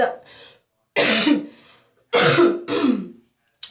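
Several harsh coughs from someone recovering from a cold, in separate bursts, close and loud, with short pauses between them and no talking.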